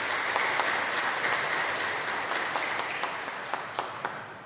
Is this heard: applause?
yes